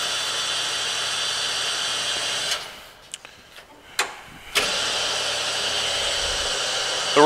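New Dimension Pyramid power slip roll machine, model 4-25, rolling with a steady loud mechanical hum that drops briefly to a softer, clunking lull before resuming at full drone.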